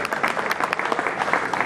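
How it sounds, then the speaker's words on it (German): Crowd at the Boot 2008 boat show in Düsseldorf applauds two Mini-Transat Atlantic sailors with brisk, lively clapping, many hands close together, with some individual claps popping out of the steady roar. "Herzlichen Applaus für unsere beiden Atlantiksegler."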